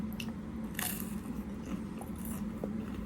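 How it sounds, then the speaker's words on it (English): Close crisp crunches from biting into turon, a fried banana and jackfruit spring roll, a few sharp cracks over a low steady background hum. "I'm hoping you guys can hear that crunch."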